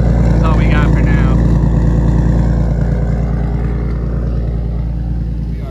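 BMW E46 fitted with a turbocharged engine idles steadily, a loud, even low rumble holding throughout with a voice speaking over it near the start.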